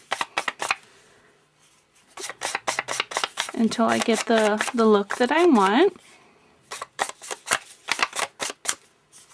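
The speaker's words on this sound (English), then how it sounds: "I'm just going to ink around the edges of my card just by rubbing it over the top of my ink pad" Card edges rubbed over an ink pad, Tea Party designer paper among the pieces, give short scratchy swipes in quick repeated bursts, close up, with a person talking over part of the sequence.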